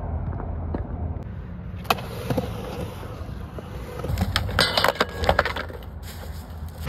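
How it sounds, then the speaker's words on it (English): A 1962 car rattles on a cold morning on a long road trip, a loose, clattering rumble with irregular knocks and clunks that grows busier and louder toward the end. "'62 sounds a little rattly in the morning, but she does look good"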